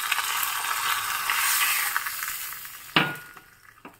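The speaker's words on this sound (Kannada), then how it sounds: "ಈಗ ಇದಕ್ಕೆ ಗಮ್ಮತ್ತಾಗಿರೋ ಒಂದು ಎಣ್ಣೆ, ಸಾಸಿವೆ, ಇಂಗು ಮತ್ತು ಕರಿಬೇವು, ಒಣಮೆಣಸು ಹಾಕಿರೋ ಒಗ್ಗರಣೆ ಹಾಕ್ತಾ ಇದ್ದೀನಿ" Hot oil tempering with mustard seeds, asafoetida, curry leaves and dried chilli sizzles loudly and steadily up close, fading toward the end as a couple of sharp metallic clinks of a ladle or pan ring out.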